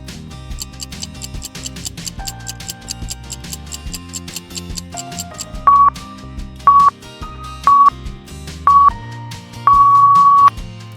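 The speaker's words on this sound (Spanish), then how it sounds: "Es un teléfono StarTAC." A Motorola StarTAC clamshell mobile phone gives off a quick run of short keypad clicks and ticks, then a series of clear beeping dialing tones in separate bursts, the last held noticeably longer, close and clean.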